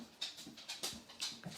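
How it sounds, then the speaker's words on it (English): A pet dog pants quietly nearby, a soft rhythmic series of breathy huffs about every third of a second, faint and alone with no talk. "That's my dog."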